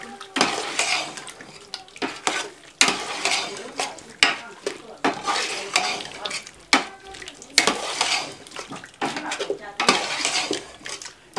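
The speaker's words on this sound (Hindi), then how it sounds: "ये देखिए आधा किलो दही हमने शामिल कर दी। इसको अच्छे से मिक्स कर दें।" Half a kilo of yogurt being mixed into Hunza-style white chicken karahi in a metal pot, with rhythmic scraping and clanking of a ladle against the pot, loud and close, with short pauses between strokes.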